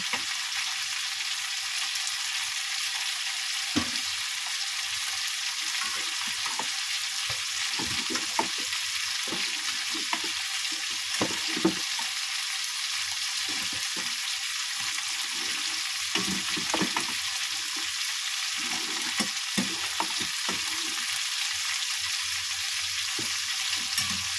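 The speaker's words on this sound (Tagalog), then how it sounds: "Ang niluluto natin chicken steak at Mongolian barbecue." Chicken steak and Mongolian barbecue fry in a pan with a constant loud, close hiss and sizzle, broken by irregular soft scrapes and clacks of stirring throughout.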